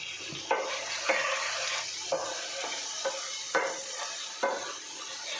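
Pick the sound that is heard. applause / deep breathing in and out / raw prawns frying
raw prawns frying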